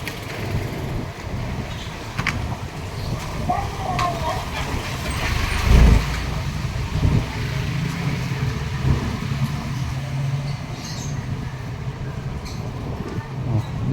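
Street traffic of cars and trucks rumbles continuously with a low engine drone, one louder vehicle swelling past midway, and people talk over it.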